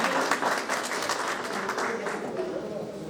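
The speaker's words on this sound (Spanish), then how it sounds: "un aplauso para la compañera que aparte se pagó el proceso" Applause for a classmate in a Spanish-language workshop class, a steady wash of clapping from a small group that holds fairly even across the whole stretch, with some murmuring mixed in.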